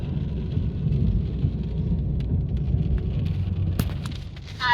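Steady rain and rumble of a thunderstorm heard from inside a car driving home, a dense continuous wash with a brief sharp crackle near the end and no talking.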